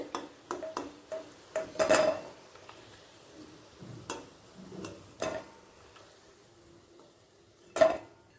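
Fried lentil fritters lifted from hot oil into another pot, sparse sharp clinks and scrapes of a utensil against metal, scattered irregularly with quiet gaps, fairly close and moderate in loudness.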